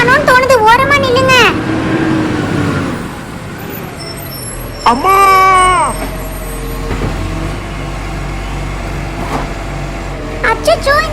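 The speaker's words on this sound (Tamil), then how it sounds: "ஒரு லாரி ஒன்னு வருது" A water lorry approaches along a road with a steady low engine rumble and a brief hiss like an air brake, while people talk and call out excitedly over it.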